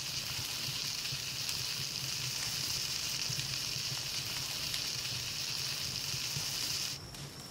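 Steady frying sizzle from cooking in the Palworld video game, a continuous bright hiss with no voices that holds evenly for about seven seconds before dropping off slightly near the end.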